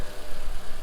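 A rebuilt 2014 Toyota RAV4, salvaged from a wreck, idles with a steady low engine rumble that pulses slightly, recorded close and loud.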